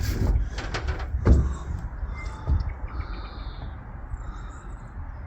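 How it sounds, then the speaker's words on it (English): Birds chirp and tweet faintly beside a canal narrowboat, with a few short bright calls over low bumps and knocks from nearby. "Loads of birds about as well."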